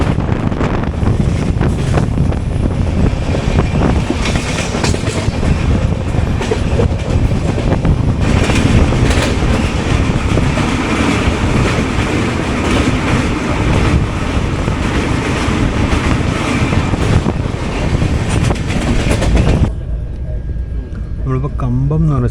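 The Kacheguda Guntur Express rushes past on an Indian railway line, a loud, sustained roar with wind buffeting for about twenty seconds before cutting off abruptly to a quiet hum.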